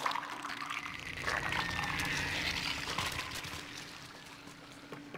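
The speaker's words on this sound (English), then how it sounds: "Oh, the water's rising." Water rising in the Little Nightmares Depths level, a faint, steady rush and trickle of flowing liquid that swells slightly midway and then slowly fades.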